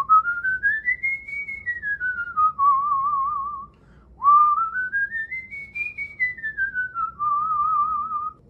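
A lone whistler runs warm-up scales, two smooth rising-and-falling melodic sweeps ending in a held trill, clear and close with a short pause between them.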